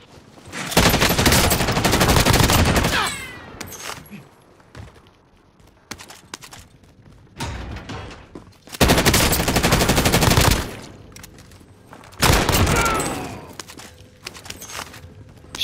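Automatic and rapid gunfire in the Call of Duty: Modern Warfare game mode on Rebirth Island, loud sustained bursts several seconds long separated by quieter gaps, with a faint background hum.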